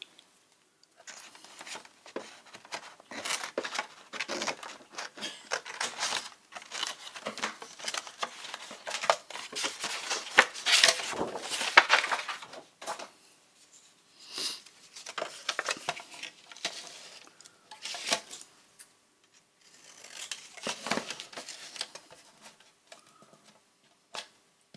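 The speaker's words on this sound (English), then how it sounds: "And I have to chop it with my scissors." Scissors cut paper and book pages for a nature journal. Crisp close-up snips and papery rustles come in irregular bursts with short quiet gaps between them, soft overall, with no talking.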